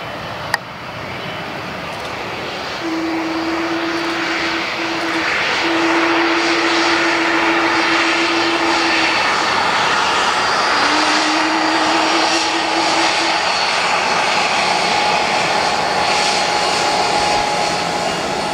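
NASCAR team aircraft on a runway at Manchester-Boston Regional Airport, a loud steady engine roar that swells and holds, with faint tonal whines drifting in and out, no talk.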